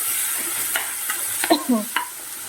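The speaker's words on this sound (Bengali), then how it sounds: "এখানে টমেটো লঙ্কা দিয়ে একটুখানি ভেজে নিচ্ছি" Tomato and chili frying in a pan for a dal tempering, with brief scattered sizzles, a few clinks and scraping stirs close by and fairly quiet, no talk.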